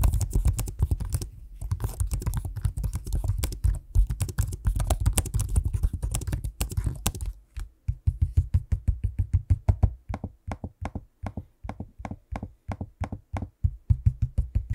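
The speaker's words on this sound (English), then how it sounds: "here's a quick sample of me using the keyboard and trackpad so you can hear what that sounds like" Laptop keys clatter in fast bursts of typing, then slower, evenly spaced clicks and taps from the trackpad and keys, close up with no voices.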